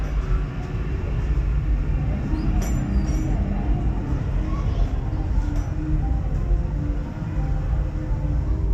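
Loud, steady rumble of The Bat roller coaster train at Lagoon amusement park, continuous and close throughout, with muffled voices mixed into the din.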